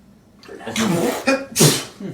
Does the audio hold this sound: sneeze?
yes